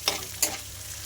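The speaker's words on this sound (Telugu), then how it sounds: "ఇవన్నీ వేసుకోవాలండి నూనెలో. మంచిగా వేయించుకోవాలి." Snack mixture ingredients such as peanuts frying in hot oil, a steady crackling sizzle with two brief louder stirs close by.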